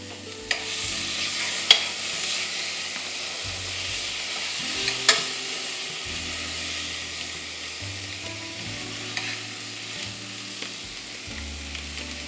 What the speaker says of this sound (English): So we're gonna now add in our green beans.